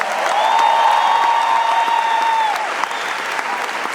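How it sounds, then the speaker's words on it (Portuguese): Sustained church conference audience applause, dense and steady, with a held tone ringing over it and fading toward the end as the clapping thins. "Dá uma salva de palmas a Jesus."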